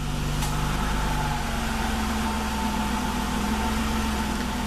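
A Nissan Altima, started by remote with the OEM key fob, runs at a steady low engine idle close by, a constant hum with a faint higher whine on top.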